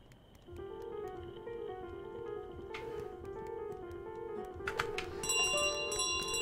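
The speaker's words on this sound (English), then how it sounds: "Why do you all prioritize this fucking bell so much?" Bell ringing in Untitled Goose Game, with repeated clear metallic chimes sustaining and overlapping over a low background, growing busier and brighter toward the end.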